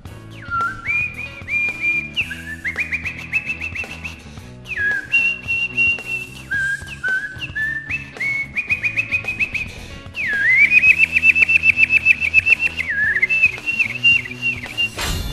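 A person whistles a string of bird-call imitations, rapid trills and chirps rising and falling in short phrases over a backing of steady music, with a louder, busier run near the end.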